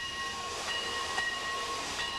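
Train running on rails, shown in a 1994 VHS about many kinds of trains, both steam and modern: a steady rushing hiss of wheels and cars rolls past with faint tonal ringing, no voices.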